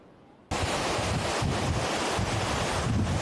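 Ocean surf and gusting wind at Imperial Beach near the pier roar in as a loud, steady wash with rolling swells and buffeting microphone wind noise.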